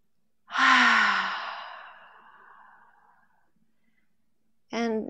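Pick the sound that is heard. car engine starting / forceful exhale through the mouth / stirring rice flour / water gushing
forceful exhale through the mouth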